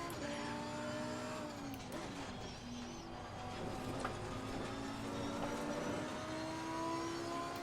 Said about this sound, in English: Well, that's the car on the throttle.